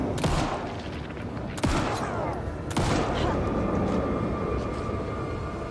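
Gunfire from armed enemies in Alan Wake 2: three loud, sharp shots spaced about a second apart, each with a booming tail ringing out over a steady rumbling backdrop, with a voice in the mix.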